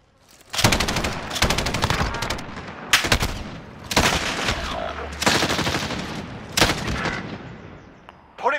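Gunfire from the Call of Duty: Modern Warfare video game comes in loud, rapid automatic bursts with short pauses and some single heavy shots, close and sharp.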